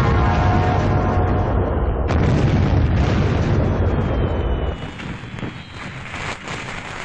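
Booming firecracker bursts during Diwali festivities, a dense roar of loud blasts crowding together for several seconds before easing into softer scattered pops and crackle.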